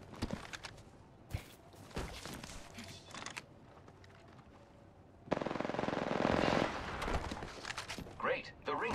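Gunfire in an Apex Legends match comes in bursts of rapid automatic shots and sharp cracks, with a dense loud volley in the latter half, mixed with game effects and talk.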